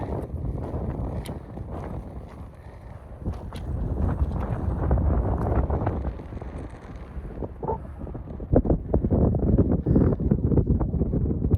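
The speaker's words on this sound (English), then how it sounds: "it's windy though" Strong wind buffets a microphone on a high mountain pass along a Great Divide trail, a continuous roaring rumble with gusty swells and scattered rustles and knocks, close and loud throughout with no talk.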